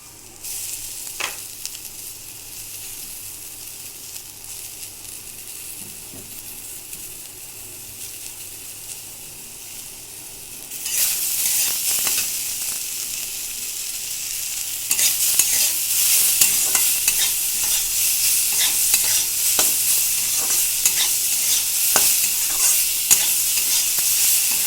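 Leafy greens frying and being stirred in a pan with eggplant already cooked in it, a steady sizzle with scraping stirs that jumps louder partway through as the greens hit the hot oil, then keeps crackling without talk.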